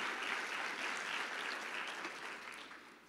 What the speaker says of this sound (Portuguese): Aplaudam o Senhor, irmão.